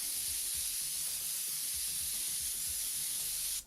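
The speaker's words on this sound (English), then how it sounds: "Nice wide spray on the edges." Wide airbrush spraying over the edges of a painted surface makes a continuous close hiss that holds steady before cutting off abruptly at the end.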